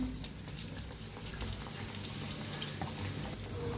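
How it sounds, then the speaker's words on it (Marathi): Bread pakora frying in hot oil, a steady soft sizzle and crackle, faint and close, continuous with no talk. "तेलात आता फिरवून घेऊया ब्रेड मस्त झालेत"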